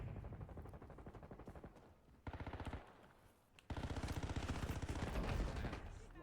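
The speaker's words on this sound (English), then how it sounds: "Damn, they're shooting shit." Rapid automatic gunfire in the shooter game Warzone rattles in dense, continuous bursts, pausing briefly and then resuming louder and fuller, with a voice faintly underneath.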